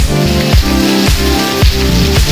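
Heavy rain with thunder falls steadily in Banaskantha district, Gujarat, close and loud. The dense hiss of water is interrupted by rhythmic thumping pulses.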